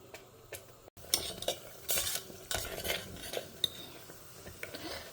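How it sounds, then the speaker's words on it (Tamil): Mustard seeds, urad dal and asafoetida tempering in coconut oil, giving a quiet crackle and pops under clinks of a spoon stirring in a pan. "தேங்காய் எண்ணெயில் கடுகு, உளுத்தம்பருப்பு, பெருங்காயம் தாளித்து கொட்டிட்டா"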